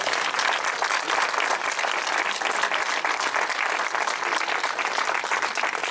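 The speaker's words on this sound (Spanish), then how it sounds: "le vamos a brindar un fuerte aplauso" Sustained applause from a large audience at a 60th-anniversary celebration of the Moro de Cumpas horse race in Agua Prieta, Sonora: dense, loud clapping that holds steady and close for the whole stretch, with no voices over it.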